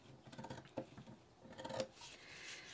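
Scissors snip through fabric for a sewn coffee cup sleeve, several quiet close crisp cuts in two short runs.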